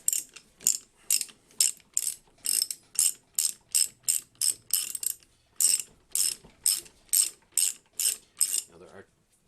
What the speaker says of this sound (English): I'm just going to snug it down with this ratchet here.